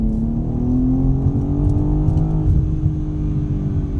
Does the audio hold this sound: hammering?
no